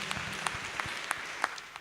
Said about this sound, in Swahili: Tumpigie makofi vizuri.